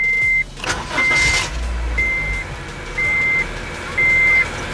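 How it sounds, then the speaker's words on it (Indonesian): A 2018 Honda Mobilio S facelift with manual transmission starts its engine: a short cranking burst, then a low, smooth idle, with an electronic chime beeping about once a second. "Untuk suara mesinnya juga starter awalan juga agak cukup lumayan halus lah ya"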